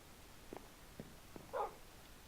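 Dog barking in Minecraft: three short, quiet yaps spaced about half a second apart, followed by a brief louder whine or growl, with no talking.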